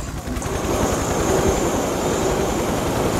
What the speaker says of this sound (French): C'est bizarre comme hélicoptère, on dirait pas un hélicoptère.